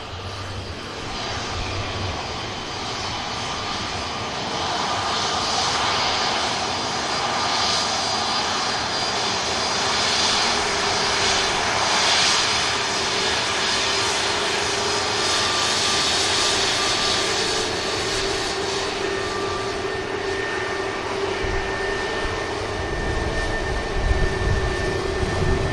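A KLM airliner takes off from an airport runway, its jet engines a loud, steady broadband roar with a high whine that holds evenly throughout the takeoff.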